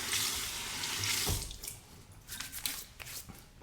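A bathroom tap runs water as a shaving brush is wetted, a steady close splashing stream that tapers off into softer drips and trickles.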